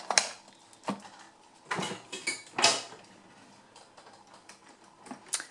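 Saucepans and lids shifting and clattering in a kitchen drawer, several sharp metallic knocks and rattles in irregular bursts, close and fairly loud with quiet gaps between.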